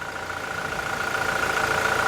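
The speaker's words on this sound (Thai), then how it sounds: "อันนี้เราสตาร์ทเครื่องยนต์อยู่นะครับ" A 2018 Toyota Fortuner 2.4 V engine idles steadily with a low rumble and a faint whine on top, nearby and unchanging.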